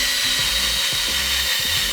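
A cordless drill runs steadily during a home refurbishment of curbed Audi Rotor wheels, a loud, close, continuous whine with slight pulsing dips in pitch as the tool labours under load.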